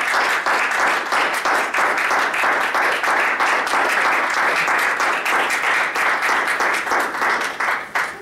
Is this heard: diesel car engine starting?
no